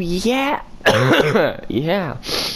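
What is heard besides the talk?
coughing, throat clearing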